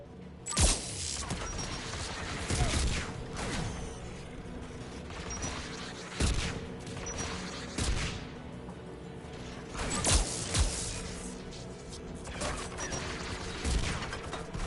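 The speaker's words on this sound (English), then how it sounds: "AA guns ahead of us." Anti-aircraft guns firing in a video game, a series of loud booming bursts roughly every two seconds over a constant mechanical rumble and crackle, repeating throughout.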